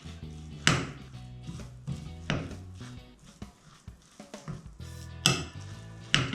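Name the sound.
stirring bulgur meatball mixture with added flour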